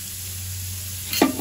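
Cumin seeds dropped into hot oil give a brief sizzling burst near the end, just after a quiet stretch of low kitchen hum.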